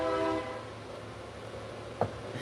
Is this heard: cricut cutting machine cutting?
no